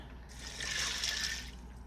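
A short burst of water pours and splashes steadily into a pot, about two cups, with a faint low hum underneath.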